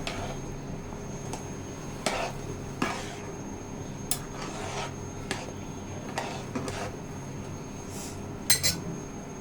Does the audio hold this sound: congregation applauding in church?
no